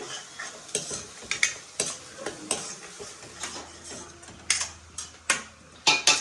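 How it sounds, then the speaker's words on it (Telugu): Stirring and scraping of masala frying in a pan on low heat, intermittent sizzling, spoon clatters recurring irregularly at close range against a low steady background hum. "ఇదైతే వేగుతుంది కదా"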